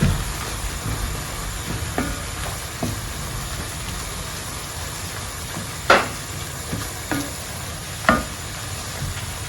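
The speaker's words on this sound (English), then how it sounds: "We'll go ahead and add our garlic and then stir it in." Garlic stirred into a hot pan for a stovetop lasagna, a soft steady sizzle broken by several distinct spoon knocks and scrapes against the pan at irregular intervals.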